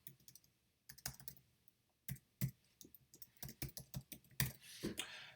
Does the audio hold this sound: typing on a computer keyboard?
yes